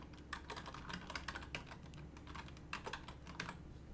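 A password is typed on a computer keyboard in a quick, uneven run of soft, close key clicks over a faint steady room hum.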